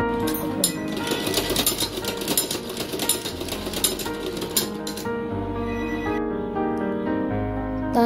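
A home sewing machine stitches the folded edge of a baby dress, its needle clatter starting and stopping in short runs with clinking handling noises in between and no voices.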